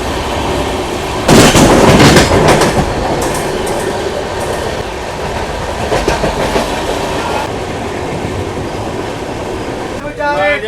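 A Jammu Tawi Express train runs steadily on rails in India, loud, close rumble with rhythmic clatter of wheels on track joints and a burst of heavier clanking near the start.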